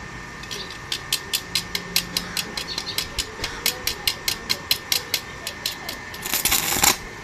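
Arc sparks from an INGCO MMA350 welding machine under repair for an overcurrent, no-output fault, heard as a regular train of sharp crackling snaps that ends in a louder, denser burst of buzzing arc noise.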